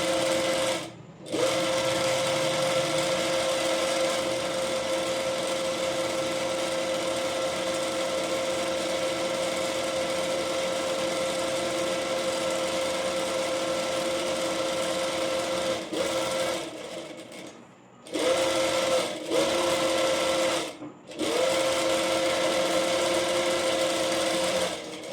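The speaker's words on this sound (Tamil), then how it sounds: "மடிச்சுட்டு சென்டரில் ஸ்டிச் போட்டுக்கோங்க." A sewing machine runs steady and close, stitching down the centre of folded blouse fabric in a tailoring class, with a continuous whirring hum broken by a few brief pauses and restarts and no speech.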